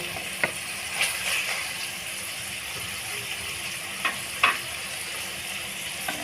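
Minced keema fries with spices in a pan, giving a steady, low sizzle throughout, with a few light clinks and scrapes of a spoon stirring.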